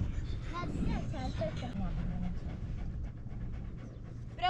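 A dog pants steadily and rapidly outdoors after chewing on a stick during play, a close, continuous breathy rhythm with voices talking faintly in the background.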